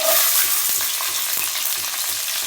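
Chopped shallots fry in hot oil in a pan for mutton sukka, giving a loud, steady sizzle with soft rhythmic stirring scrapes throughout and no talk.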